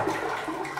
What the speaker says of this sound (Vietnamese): Xả được các bạn, hay quá.